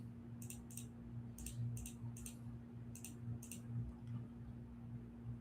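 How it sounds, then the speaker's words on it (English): Mouse clicking while playing a desktop game: quiet, quick clicks in small pairs and clusters spread across the moment, over a low steady electrical hum, with no talking. "Is the clicking loud, by the way? Like, is it unbearably loud?"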